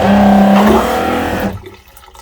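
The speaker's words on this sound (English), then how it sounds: "So here, I'm just going to flush it." A marine toilet aboard a 30-year-old 34-foot Marine Trader boat flushes, a loud close rushing whoosh of water that cuts off abruptly after about a second and a half.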